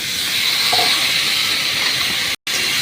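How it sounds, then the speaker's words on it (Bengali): Steady, loud sizzling hiss of large cubed potatoes added to a hot pan with whole onion, whole tomato, whole garlic and ginger over lowered gas for a dhaba-style potato and pea curry, continuous with one brief dropout near the end. "এর ভেতরে দিচ্ছি এরম বড় করে কাটা ডুমো ডুমো আলু"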